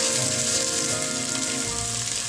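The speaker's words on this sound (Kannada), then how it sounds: "ಈಗ ನಾವು ಕಟ್ ಮಾಡ್ಕೊಂಡಿರುವಂತ ಮೆಂತ್ಯ ಸೊಪ್ಪು ಹಾಕೊಳ್ಳೋಣ. ಇದಕ್ಕೆ ಇದ್ರ ಜೊತೆಗೆ ಫ್ರೈ ಮಾಡಬೇಕು" Chopped fenugreek leaves hit hot oil in a pan, giving a loud, dense, continuous sizzle with crackling spatter throughout, close up and with no voices.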